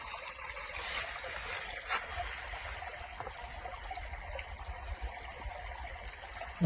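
River water flows in a soft, continuous trickle and burble along a trail in a hiking valley, faint and even, with a small knock near the end.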